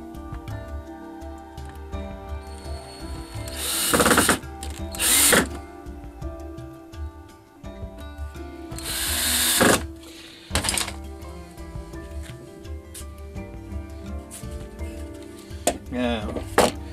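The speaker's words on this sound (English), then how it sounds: "it's just a very, very simple matter now of screwing these onto here, like so" Power drill driving screws into a wooden Aussie INPA box for Australian native bees: several short, loud whirring bursts separated by quieter pauses, with a voice speaking in between.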